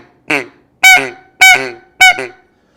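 Four short, nasal honking calls from a duck call, evenly spaced and loud, imitating a hen and drake duck.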